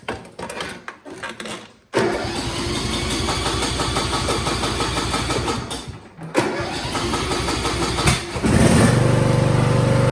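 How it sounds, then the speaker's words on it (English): A lawnmower engine is jump-started with a FOXPEED G29 portable jump starter: a short cranking burst, then the small engine catches and runs loudly and steadily, briefly dipping before revving up near the end. "And now when I try to start the lawnmower,"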